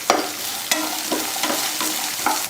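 Garlic, ginger and coconut sautéing in a pan give a steady, close sizzle, broken by repeated scraping strokes as the spatula stirs them at a regular pace.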